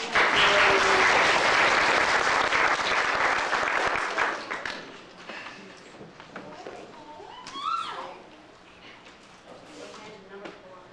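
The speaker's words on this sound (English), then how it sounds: "Can you guys give him an applause for me?" An audience at a family quiz night bursts into loud applause that fades after about four seconds, leaving scattered claps and a few voices murmuring in the room.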